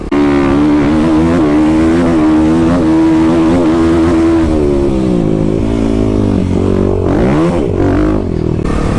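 A 2021 Kawasaki KLX300 dirt bike with a Power Commander engine runs loud and close as it climbs a hill, holding a steady throttle before the pitch sags and then rises again with revving near the end.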